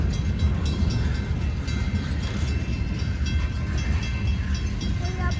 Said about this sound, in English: here comes the end of this train right here.